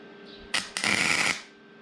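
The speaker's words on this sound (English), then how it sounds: "now we're ready to put our first little tack welds just in place, nothing else" Welder making a tack weld on car body panels for an FJ40 restoration, two short loud crackling bursts in quick succession, the second lasting about half a second, over a low background hum.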